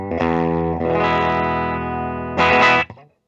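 Distorted electric guitar chords ring out through an amp from a 2021 Gibson one-pickup 1958 Les Paul reissue with a wrap tail, with a sustained strum, a pause, then a brighter burst that cuts off abruptly.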